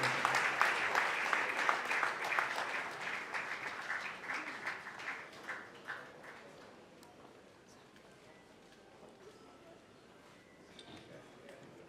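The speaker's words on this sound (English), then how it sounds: "A round of applause for Professor Benedict Orama, ladies and gen" Applause from the audience at a film festival award ceremony rises clearly at first and then thins out to scattered claps, with a voice heard faintly underneath as it fades.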